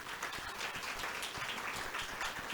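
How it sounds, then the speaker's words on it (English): A brief burst of applause from members at a Rotary club meeting, steady and fairly distant, filling the short moment without talk. "Give them a round of applause."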